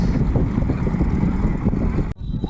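Strong wind on a trawler buffets the microphone with a loud, rough rumble that briefly cuts out near the end before resuming.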